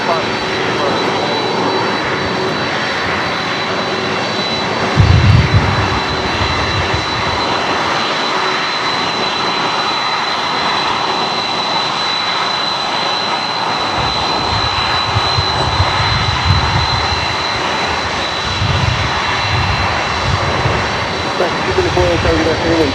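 An airliner's engines roar steadily as it departs runway 25 right at LAX, a loud sustained rumble and whine throughout, with radio voices talking over it.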